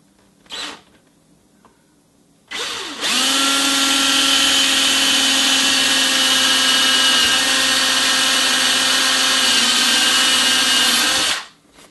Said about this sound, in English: the best thing to use is your unibit, which has a variety of different steps and drills different sizes. So I'm going to go ahead and drill that.